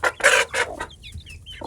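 Backyard hen clucking close by, a few loud bursts of clucks at the start, then softer chirping peeps from small chicks.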